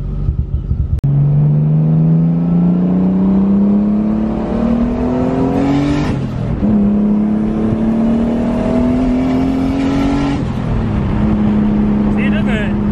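Nissan 240SX with a swapped RB25 engine pulling hard down a street, rising engine drone climbing through two gears with a shift break between, loud and close, with a slight misfire roughness.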